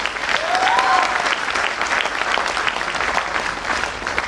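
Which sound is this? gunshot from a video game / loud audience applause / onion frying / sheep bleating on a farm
loud audience applause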